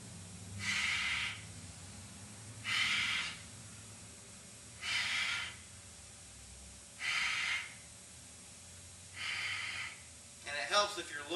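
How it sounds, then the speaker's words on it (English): Slow, deep breaths during a qi gong healing session, five long airy inhales or exhales spaced about two seconds apart, close and soft, with a brief rustle at the end. "I'm going to take a deep breath."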